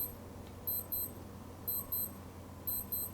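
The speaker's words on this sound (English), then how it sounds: "The alarm is going off." A Casio G-Shock GMW-B5000 watch alarm beeps in repeated bursts of high electronic double and triple tones, each burst separated by a short pause, small and close over a low background hum.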